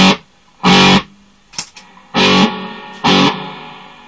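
Electric guitar played through a 1966 Vox Buckingham amplifier with its distortion switched on, heard as three loud, gritty bursts of strummed chords separated by short gaps and a few quick muted plucks.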